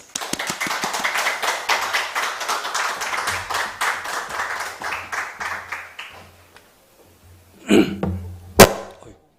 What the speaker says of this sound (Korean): 이 시간 우리 공육상 교사님 나오는데 우리 큰 박수로 한번 환영하도록 하겠습니다.